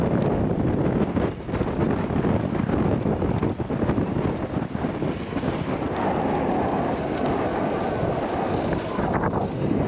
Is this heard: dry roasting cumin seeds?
no